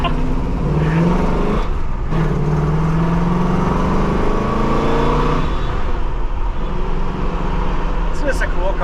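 A 1976 Pontiac Trans Am accelerates on the road, its V8 rumbling and revving up through the gears, loud and close from inside the car, with a voice talking over the engine.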